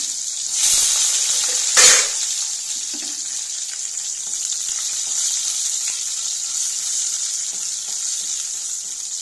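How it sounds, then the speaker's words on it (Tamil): Turkey berries fry in hot sesame oil, giving a steady, bright sizzle that holds close and even for several seconds, with a short louder splash near the start and no talk. "எண்ணெய் காஞ்ச அப்புறம் நாற்பது சுண்டைக்காய் போட்டிருக்கேன்"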